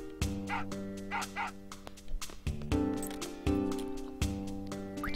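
A dog in a pet shop gives a series of short yips and barks, moderately close, some of them sharp and spaced apart, with steady background tones and no speech.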